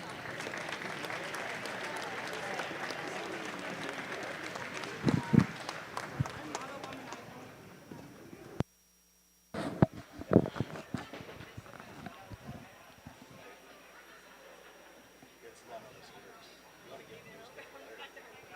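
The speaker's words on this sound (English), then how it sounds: "They got a hearty round of applause by our crowd." Crowd applause at a youth and alumni night wrestling meet in Evansville, a broad clapping wash over the first several seconds with sharp bangs, then a sudden gap and a thinner, scattered patter of claps and gym noise fading out.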